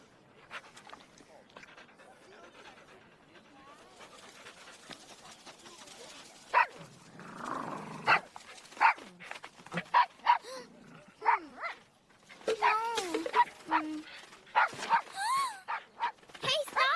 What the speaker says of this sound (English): Bad dog, no!